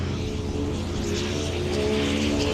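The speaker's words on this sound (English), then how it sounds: "You can hear that just exhaust note" A Toyota 86 drift race car on Nexen tires roars steadily during qualifying, with a rough, droning exhaust note and a faint hint of tire noise, loud and continuous.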